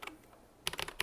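Keys clack on a KEMOVE K98SE mechanical keyboard: a few scattered clicks, a brief pause, then a quick burst of crisp, close keystrokes.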